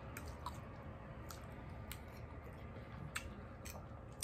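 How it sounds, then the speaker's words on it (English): Someone bites and chews raw cauliflower close to the mic, with quiet irregular crunches and a few sharper crisp clicks spread over several seconds in a quiet room. "And this cauliflower really tastes nice. Yeah, this will give you something to crunch on."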